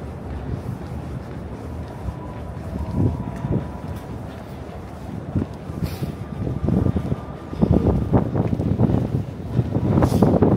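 Strong wind buffeting a microphone on a Manhattan street during a March walking commute, a rough continuous rumble that swells louder toward the end, with faint street noise underneath and no clear speech.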